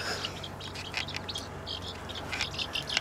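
Chickens cluck and chirp near and far over a low steady background hum, busy scattered squawks as they are fed worms and corn.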